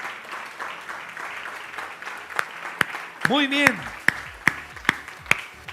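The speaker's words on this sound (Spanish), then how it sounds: "Denle un buen aplauso a nuestro Dios, por favor." A church congregation at a Sunday sermon breaks into scattered applause under a speaking voice and a brief musical tone, with several sharp separate claps near the end rather than sustained clapping.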